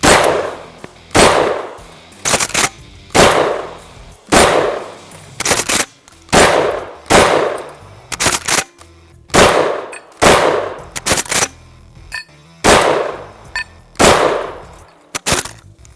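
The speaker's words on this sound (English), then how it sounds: "it's so much fun with that many 12 gauge rounds" A DP-12 double-barrel pump-action shotgun fires 12 gauge rounds, about sixteen loud, sharp blasts with the pump racked between them, starting evenly and coming faster toward the end.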